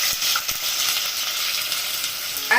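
Onion frying in a kadai cooker with cinnamon and cloves sizzles in a steady hiss, with a couple of light knocks early on and a brief clatter at the end.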